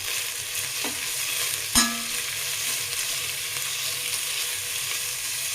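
Sliced onion rings fry in oil in a heavy-bottomed pan with a steady, close sizzle, broken once by a sharp clink of a utensil against the pan.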